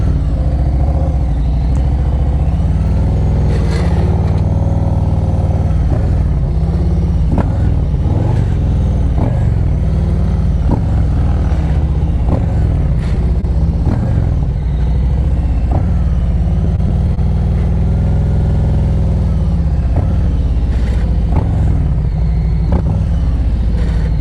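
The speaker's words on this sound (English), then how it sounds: "I want you to listen to my throttle." A motorcycle ridden through slow-speed practice exercises, its engine held near idle with frequent short throttle blips, loud and close, plus light clatter throughout.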